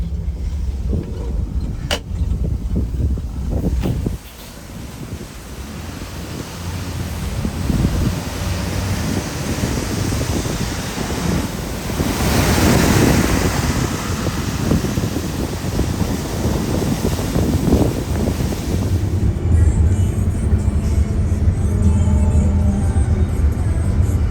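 Loud, steady wind rushing through an open window of a moving intercity bus travelling from Malang to Denpasar, a continuous broadband roar that swells midway and persists throughout, no talk.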